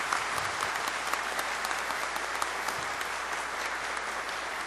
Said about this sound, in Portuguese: qual eu peço uma salva de palmas para vocês